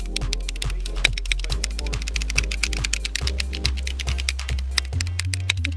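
Computer keyboard keys tapped in a steady rhythm, with repeated spacebar presses during PC gameplay, set against a constant background of game music and sound.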